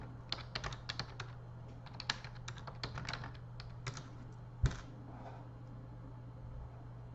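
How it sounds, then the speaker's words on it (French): Typing on a computer keyboard, irregular bursts of light clicking keystrokes nearby with one sharper knock, over a constant low hum, fading to quiet near the end. "moi je tape comme ça"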